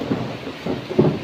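Thunder rumbles through an unseasonal March rainstorm, a low, steady roll with a couple of swelling pulses, loud and close, heard alone without voices.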